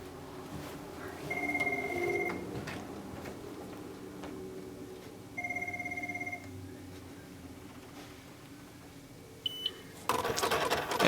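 An Eclipse credit card terminal dialing out to batch the day's transactions, with a steady hum, two long electronic tones a few seconds apart, short beeps, then a burst of harsh modem-like noise at the end.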